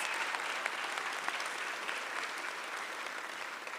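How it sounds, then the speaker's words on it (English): In a city council chamber at a grand opening, a crowd gives a round of applause, a soft, even, continuous wash of many clapping hands heard from a distance, with no talk over it. "you deserve a round of applause"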